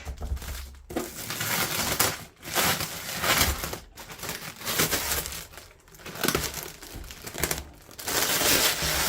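Plastic bag packaging crinkles steadily while a Philips 3000 Series air fryer is unboxed, a dense, loud, continuous rustling close by with brief pauses between handling bursts, with no talking.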